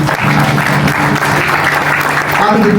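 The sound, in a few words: audience applause at a book launch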